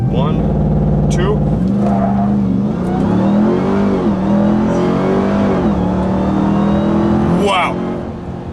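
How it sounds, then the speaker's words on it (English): A 2021 Ram 1500 TRX roars at full throttle off a launch-control start, engine loud and close with rising revs and a brief shift dip, while a voice talks over the engine. "apply full throttle. I'll hold it for a couple seconds and let go of the brake."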